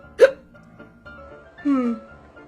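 One abrupt, squeaky cartoon hiccup pops out early from a character in an animated Bambi and Lassie movie, then a quiet pause and a longer voiced vocal sound close by.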